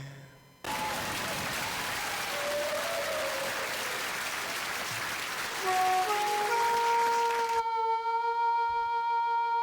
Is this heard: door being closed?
no